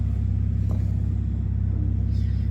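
Passenger elevator machinery in a housing estate block gives off a steady, deep mechanical rumble and hum that drones on without a break, with a faint click partway through.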